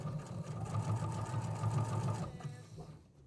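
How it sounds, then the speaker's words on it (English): A sewing machine runs steadily, sewing a wide basting stitch through layers of a T-shirt table runner, its rhythmic mechanical whir continuing for a few seconds before slowing to a stop. "I'm just using a really big, wide basting stitch just to kind of keep the layers together."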